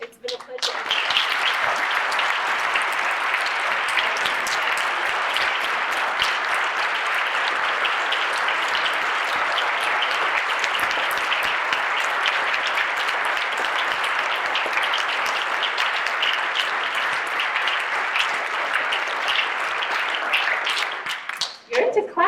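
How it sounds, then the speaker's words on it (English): A seated audience at a conversation event bursts into sustained, dense applause, loud and steady for about twenty seconds before cutting off abruptly. "You're into clapping here."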